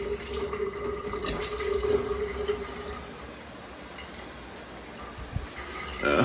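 Cold water from a shower runs steadily in a bathroom as a broad, continuous hiss with a faint tonal hum, fairly close and moderately loud, with no talking.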